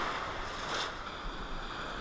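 Ocean surf rolls steadily offshore where a fleet of fishing boats gathers, the waves a broad continuous wash with wind buffeting the microphone and no talking.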